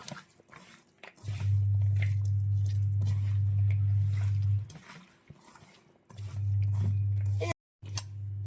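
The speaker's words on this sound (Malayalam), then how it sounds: "ഉള്ളിയും കൂടി ചതച്ചതും കൂടി ചേർക്കുവാണേ വെളിച്ചെണ്ണയിൽ ചാലിച്ചത് ഇതെല്ലാം കൂടി നമ്മൾ നന്നായിട്ട് ഞെരടി യോജിപ്പിക്കുക" Beef being kneaded by hand with crushed onion and coconut oil for beef fry, giving wet squelching and squishing sounds up close over a steady low hum, with a short silent break near the end.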